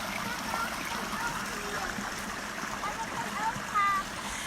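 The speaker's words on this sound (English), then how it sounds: "There's the river." A river flows beside a hiking trail with a steady, broadband rushing and trickling that runs unbroken throughout, while a faint voice comes and goes beneath it.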